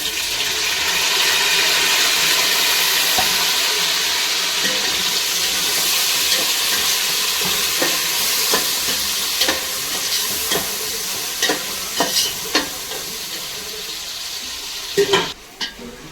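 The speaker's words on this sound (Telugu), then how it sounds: "ఫ్రెండ్స్ టమాటాలు కూడా ఫ్రై అయిపోయాయి" Tomatoes frying in a pan for chicken curry, a continuous close sizzle with repeated sharp clicks and scrapes of a spoon against the pan growing more frequent toward the end, with no talking.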